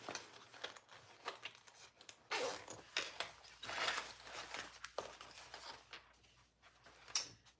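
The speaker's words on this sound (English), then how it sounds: "I'm going to open my zipper a little." A clothing zipper is slid open in short, scratchy rasps during garment sewing. The rasps are close and quiet and come in uneven bursts with brief pauses between, with no talk.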